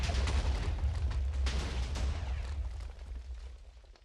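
A TNT explosion in a video game, a loud booming blast with rumbling low end that rolls on and slowly fades, no talk.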